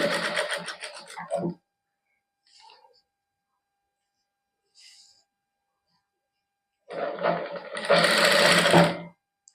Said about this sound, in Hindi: ये उपर आप सिलाई ला देंगे